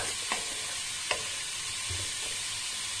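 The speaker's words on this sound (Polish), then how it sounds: "teraz to wszystko sobie podsmażam, czekam aż pieczarki zmiękną" Mushrooms fry for a keto mushroom soup, giving a steady, close hiss of sizzling in a pot with a couple of faint stirring knocks and no talk.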